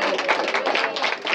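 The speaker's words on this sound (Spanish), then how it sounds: "hay que darle un aplauso a ese señor que nos da quebrada" Applause from a small gathering at a meeting in a Mexico City venue, dense steady clapping from several people for about a second and a half, fairly close, with no speech over it.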